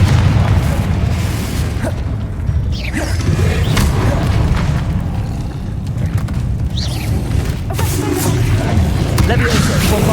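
Fire spell explosions boom repeatedly during a Hogwarts Legacy fight, loud low-heavy blasts and crackling bursts layered over continuous battle rumble and music, with a voice calling out spells.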